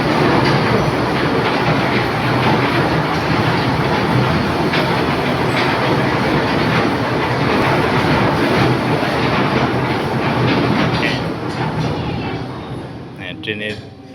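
A children's park toy train ride in Jashore runs with a steady rolling rattle and clickety-clack of wheels on track, loud and continuous throughout, fading slightly toward the end, with crowd voices mixed in.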